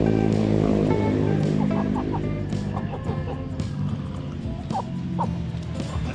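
Several chickens clucking and calling nearby in a busy, noisy yard, with layered overlapping bird sounds and faint background activity.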